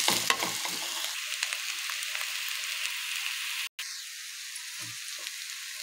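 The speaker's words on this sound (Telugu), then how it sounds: "రొయ్యలు కూడా వేసేస్తున్నా." Prawns sizzle steadily in a hot pan with stirring scrapes at the start, a broad continuous frying hiss that holds throughout, with no talk.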